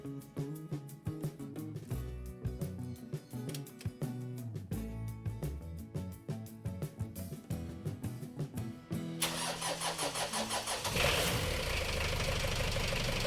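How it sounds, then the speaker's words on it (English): A car engine cranks and catches after its drained battery has been recharged, a rapid rhythmic cranking that gives way to a steady, close running idle. "Now it's time to start the car."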